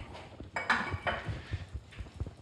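Blini batter of eggs and butter stirred in a bowl, with scraping and clinking of a utensil against the dish, close and irregular, at moderate volume.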